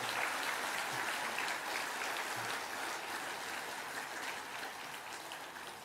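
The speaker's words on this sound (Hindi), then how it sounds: "एक बार सभी एक दूसरे के उत्साहवर्धन में तालियों की गड़गड़ाहट करें।" Audience applause at a Hindu religious discourse gathering, a steady dense wash of clapping that holds at an even level through the whole stretch with no voices on top.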